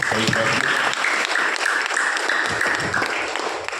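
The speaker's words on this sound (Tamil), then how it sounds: "கை தட்டுங்க பார்ப்போம்." Church congregation clapping hands during a Mass, a dense burst of many hands applauding together, loud and sustained throughout with faint voices mixed in.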